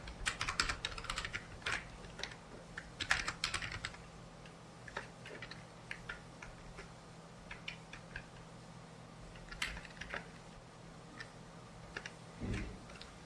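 Login credentials are entered on a computer keyboard during a software installation. Quiet, irregular bursts of keystroke clicks are separated by short pauses, close by, with no one speaking.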